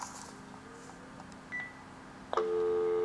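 Keypad beeps on a cordless phone after its power adapter is replaced, a couple of short tones followed by a steady, loud dial tone that holds to the end.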